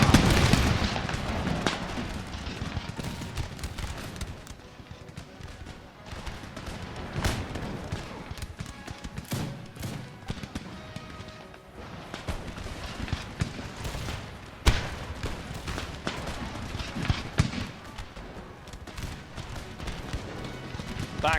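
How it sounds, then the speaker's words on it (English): Musket volleys from regiments in an Empire Total War battle crackle and pop irregularly at a distance, scattered shots and rumbling booms over a steady battlefield din. "The regiment to the right started opening fire."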